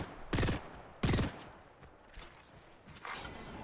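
Gunfire in Apex Legends: two loud, close bursts of rapid shots in quick succession, then a lull and a fainter flurry of further shots.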